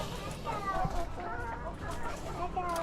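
Backyard chickens cluck and murmur in a coop at feeding time, a busy close flock with a person's voice mixed in at times.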